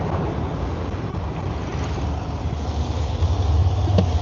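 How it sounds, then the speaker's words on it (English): A speedboat with an inboard motor rumbles past on the Missouri River, a steady low, broadband engine drone that holds close and fairly loud, swelling slightly toward the end with no talking over it. "we got a speedboat rumbling by over here."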